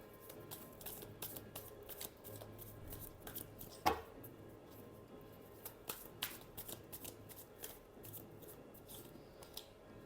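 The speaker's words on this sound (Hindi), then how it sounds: "Last shuffle." Tarot cards are shuffled by hand at close range, a quiet series of crisp riffling and slapping flicks in an irregular rhythm with one sharper tap.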